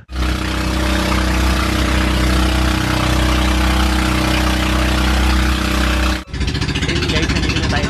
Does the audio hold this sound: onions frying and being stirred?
no